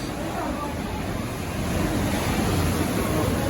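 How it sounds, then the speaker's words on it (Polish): Sea waves breaking against a rocky coastline near dinosaur footprints at Sangjogam, a steady roar of surf with wind noise that swells a little louder in the second half. "Nadchodzi, nadchodzi następna fala."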